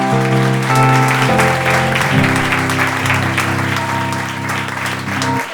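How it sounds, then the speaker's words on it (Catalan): A live audience claps steadily for Martí Gironell at a Catalan reading event, dense applause running the whole time over sustained music chords. "Un aplaudiment per Martí Gironell."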